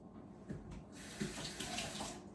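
Tap water runs into a kitchen sink while a baking utensil is rinsed, a soft continuous splashing gush with a few brief clatters, close and quiet.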